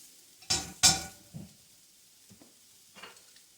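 Onions are stirred and sautéed in a pan over a gas flame, with a couple of sharp utensil scrapes and clinks against the pan followed by quieter intermittent stirring taps and faint sizzling.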